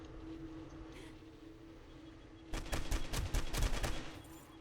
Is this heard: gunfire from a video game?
yes